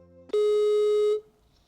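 A single steady telephone ringing tone sounds loud and clear for just under a second before it stops, with no one speaking.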